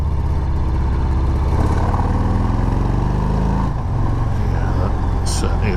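A 2019 Harley-Davidson FXDR motorcycle accelerates in third gear on a road, its engine note climbing steadily in a loud, continuous rumble while a rider talks over it.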